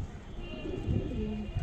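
A female pigeon coos in a loft at Munshirhat, a soft low throaty call close by amid quiet background noise.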